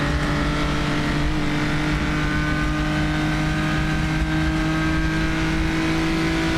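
A historic race car on the Isle of Man road course drones steadily at high revs through the gears, its engine note loud and continuous with no talk over it.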